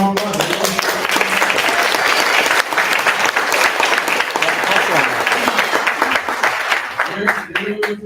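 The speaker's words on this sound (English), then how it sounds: "So yeah, give them a round of applause." A demo-day audience applauds for students headed to Silicon Valley, dense sustained clapping filling the room for about seven seconds before tapering, with voices rising through it near the end.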